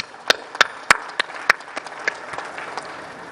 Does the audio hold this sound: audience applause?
yes